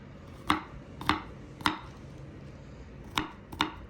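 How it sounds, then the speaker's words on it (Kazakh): Garlic and onion being chopped with a knife on a board, six sharp separate thuds in an uneven rhythm over a quiet background, close and without talk. "Ал біз қазір бірінші алдымен чесногымызды жуамызды турап алайық."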